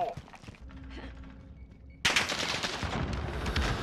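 Rapid automatic gunfire in a Call of Duty-style shooter bursts in suddenly and loudly partway through, sustained and dense after a quieter opening with faint game noise.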